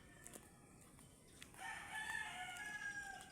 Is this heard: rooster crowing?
yes